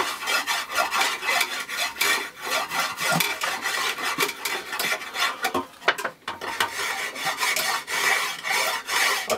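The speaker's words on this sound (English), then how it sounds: "I also have a little scraper tool, which is quite nice" A small scraper tool works a wooden Windsor chair spindle with rapid, rhythmic rasping strokes, a close and continuous scratchy scraping that pauses briefly midway and then resumes.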